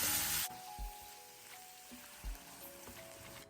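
Small diced tomatoes, peppers and onions hit a hot pan with a loud hiss that quickly settles into a quieter, steady sizzle with soft crackles and a few dull knocks.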